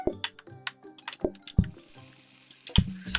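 Water drawn from a tap in a video game kitchen, with scattered splashes, drips and clinks in an irregular rhythm, fairly close and quiet, alongside a running-water wash.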